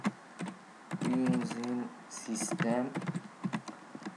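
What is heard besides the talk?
typing code on a computer keyboard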